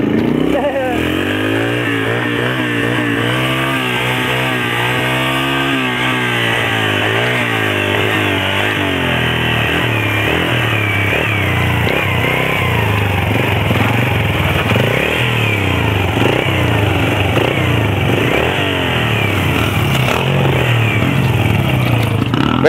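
Two small dirt bikes, a Yamaha TTR-125 and a Suzuki DRZ-125, race with loud buzzing engines that rev up and down throughout, close to the listener, while people talk and shout over them.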